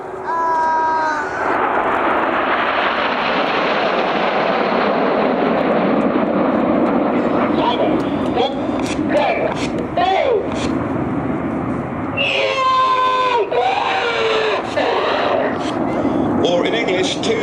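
Red Arrows Hawk jets flying past in Diamond formation at the Cotswold Airshow, trailing white smoke; a loud, broad jet roar swells and holds near by, while a commentator talks over it.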